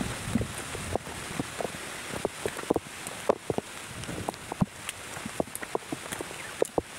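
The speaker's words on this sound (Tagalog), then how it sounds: "Ang lakas ng hangin." Strong wind blowing across an open field near acacia trees, a steady broadband roar with gusty buffeting against the microphone and scattered rustling and crackling throughout.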